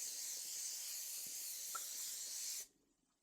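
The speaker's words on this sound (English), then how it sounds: "I'm going to use this olive oil cooking spray" Olive oil cooking spray hisses steadily from the can into a skillet for about two and a half seconds, then cuts off abruptly into quiet room tone.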